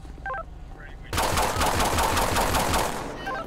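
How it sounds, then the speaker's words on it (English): Rapid automatic gunfire bursts out in the LSPDFR police mod for GTA V, a sustained loud volley of close shots that follows a short electronic beeping. "Shots fired."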